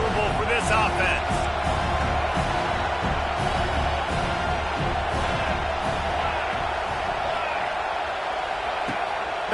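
Stadium crowd at a Penn State college football game, a steady roar of many voices with scattered shouts and cheers, under a commentator's speech throughout.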